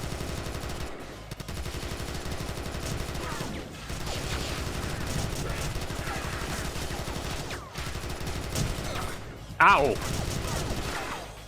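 Rapid gunfire in the TimeSplitters 2 PC port, a dense run of automatic shots over several seconds, with a louder burst near the end and a brief exclaimed voice.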